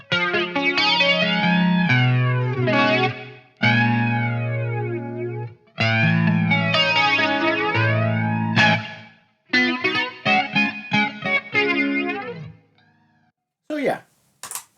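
Electric guitar played through a flanger pedal into a Friedman Runt 50 amp: loud sustained chords and riffs with a sweeping jet-like swirl, broken by short pauses, ending with a few quick picked notes.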